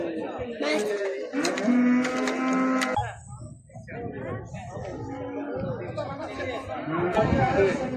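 Calves low with drawn-out moos at a busy sheep, goat and cattle market in Maştağa, Azerbaijan, the calls rising over a steady crowd chatter, with people talking nearby between the bellows.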